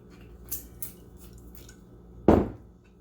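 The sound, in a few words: stirring oil into pesto in a bowl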